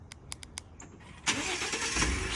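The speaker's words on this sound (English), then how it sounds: "Starts my truck." A truck is started by a 902 MHz remote start: a few sharp beeps and clicks, then the engine cranks and catches into a loud, close, rough running roar.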